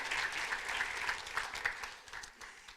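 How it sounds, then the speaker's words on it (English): A Rotary Club meeting audience gives a round of applause, a short burst of steady, moderately quiet clapping from a modest crowd in a room. "let's have a round of applause for Ashley"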